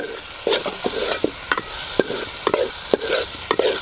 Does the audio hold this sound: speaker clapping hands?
no